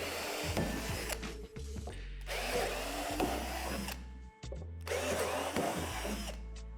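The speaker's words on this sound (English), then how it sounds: "Start by drilling out the 3 divots at the top of the slide." A power drill bores out divots at the top of a plastic playset slide in three loud whirring runs separated by short pauses and clunks, with no speech.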